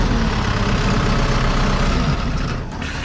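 SP750-15X concrete pump engine, a heavy diesel, drops from a steady low rumble toward idle, dense and loud throughout with a slight easing near the end.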